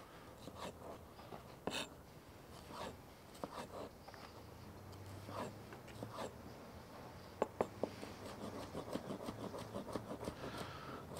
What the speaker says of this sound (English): Here's the jalapeno. We just slice down.